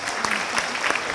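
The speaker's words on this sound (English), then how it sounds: "I want the parents and all the family and friends who are here and the graduates to give all our academic and support staff a round of applause" Dense, continuous clapping from an audience of parents, family, friends and graduates at a university graduation ceremony, steady and fairly close throughout.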